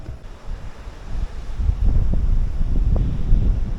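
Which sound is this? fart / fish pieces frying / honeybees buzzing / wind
wind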